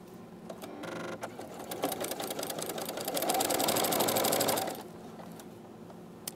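A sewing machine with a special presser foot stitches through thick fabric while making a toddler poncho. Steady rapid mechanical whirring and clatter starts, then grows louder and more intense for a few seconds before easing off.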